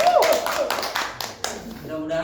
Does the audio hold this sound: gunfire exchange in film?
no